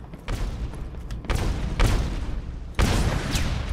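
Gunfire in the video game Aliens: Colonial Marines, a few loud booming shots spaced about a second apart over a dense, rumbling game background, with no talking.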